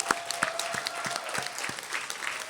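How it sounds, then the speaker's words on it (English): Audience applause fills a consciousness studies conference hall in San Diego, a steady wash of many hands clapping at moderate level, with a few sharper nearby claps standing out. "Let's give her a round of applause."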